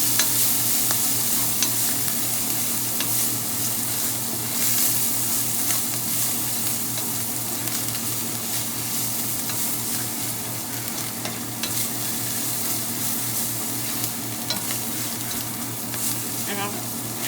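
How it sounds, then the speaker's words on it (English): Garlic fries and is stirred in a pan, a dense continuous sizzle with constant scraping strokes throughout, a low steady hum beneath it, and no clear speech. "We just stir this for about a minute or two until it starts to get"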